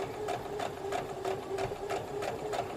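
Sewing machine stitching a quilt block with a heart curve, a fast even rhythmic whir of needle strokes repeating steadily at close range with no talking.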